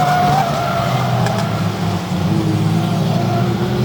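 A race car spins on a raceway circuit, its tyres squealing and skidding in a sustained loud screech over a roaring engine, close and continuous with no talking.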